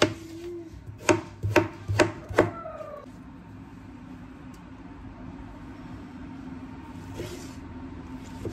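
A knife chops lemon for a salad on a board: four sharp, evenly spaced strikes close by, then only a low steady background hum.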